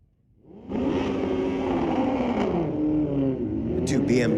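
Two BMW drag cars launch down the strip at a night street-legal drag meet, engines swelling from quiet into a loud sustained roar of rising revs, with a commentator talking over the noise.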